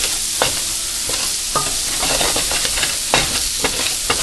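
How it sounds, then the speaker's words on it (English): Chicken paprikash ingredients sauté in a pan with a steady, close sizzle, broken by several sharp scraping stirs of a utensil against the pan bottom. "Let these saute and cook down."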